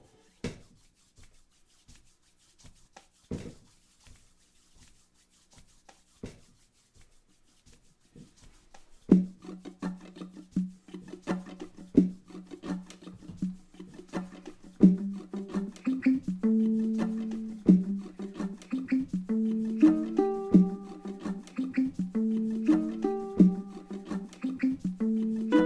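A ukulele begins with scattered tapping and scratching, then a strummed rhythmic phrase builds and repeats with plucked melody notes in a steady pattern, close and moderately loud, with no voices.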